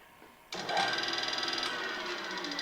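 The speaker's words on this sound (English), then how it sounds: "it grinds the end of the blade perfectly square" A motor-driven grinding wheel squaring the end of a blade stock in a machine shop starts abruptly with a steady rising whir and rapid rhythmic pulsing, close and moderately loud.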